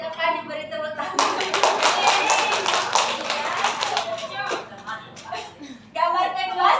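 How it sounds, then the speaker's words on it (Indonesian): Classroom clapping for a pupil named Cynthia, a burst of many hands lasting a few seconds, with a voice speaking before and after. "Silakan diberi tepuk tangan"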